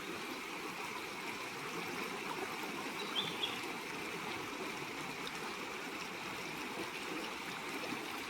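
Steady rushing of a flowing stream in the Konkan, a continuous broadband wash of water with no voices, constant and fairly close throughout.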